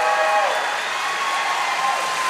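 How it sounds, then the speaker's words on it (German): A packed hall erupts in sustained applause for Laura Götze during the election and crowning of the Palatinate Wine Queen, the dense clapping holding steady and even throughout. "ein sehr großer Applaus aus Weiher, aus dem ganzen Saal für Laura Götze"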